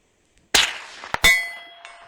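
A paintball hits a steel target 200 meters away with a sharp metallic clang that rings on, followed a moment later by a second strike and a lingering ringing tone.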